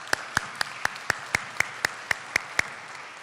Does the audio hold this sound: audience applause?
yes